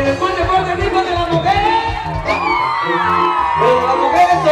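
A large crowd of women at a lively event shouts and whoops loudly together, with the cheering sustained and dense. Individual yells rise above the mass of voices throughout.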